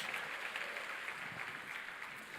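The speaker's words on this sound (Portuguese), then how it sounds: "pode dar uma salva de palmas ao Senhor" Church congregation giving a round of applause during a sermon, brief steady clapping from a crowd, fairly faint and even throughout.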